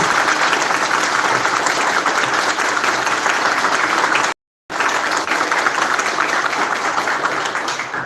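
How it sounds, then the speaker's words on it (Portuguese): Audience applause fills a hall at a results presentation, sustained dense clapping at steady loudness with one brief dropout midway. "uma calorosa salva de palmas em agradecimento a este instituto"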